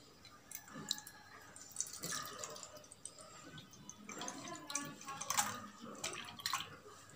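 Water poured into a container while mixing homemade glass cleaner, giving a splashing, dripping pour with scattered clicks and light handling noise, close and moderately loud.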